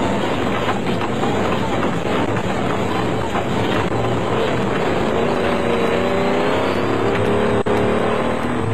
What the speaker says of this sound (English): You're on board in the Ford Ranger. Enjoy the ride across the chessboard section.